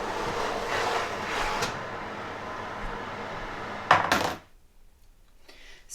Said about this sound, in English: I'm now going to take them out the oven.